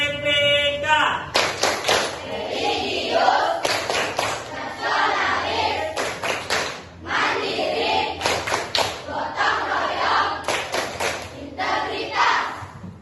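A primary school class performing the rhythmic Indonesian tepuk PPK clap: bursts of many children clapping together in set patterns, loud and close, separated by short pauses, with voices chanting along between and over the claps.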